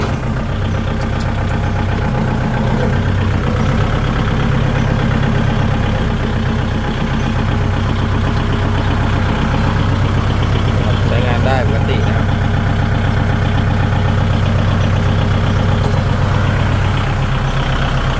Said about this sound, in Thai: ฟังเสียงเครื่องยนต์